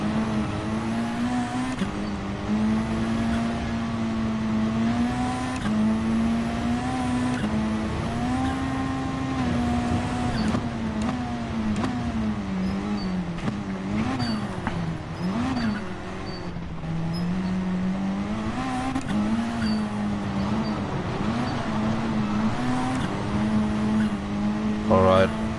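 Race car on its outlap before the first race of the day at an FIA Nations Cup event, engine droning and revving with wavering pitch through gear changes, close and continuous, under intermittent talk.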